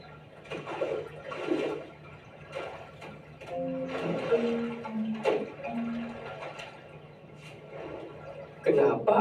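Water flowing and gurgling where a river overflows, blocked by rubbish, running steadily under a person's voice throughout.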